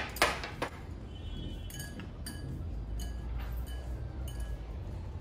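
Batter for a carrot muffin sweetened with jaggery being stirred in a bowl, with a run of light clinks and taps against the sides over a quiet background.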